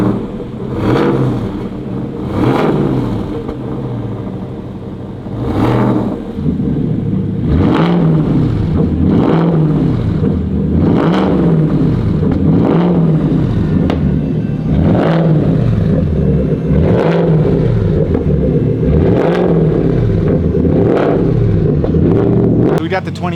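A 2025 Ford Raptor R with a supercharged V8 and Borla exhaust revs repeatedly, loud throaty blips rising and falling in quick succession close by, with people talking over the engine noise.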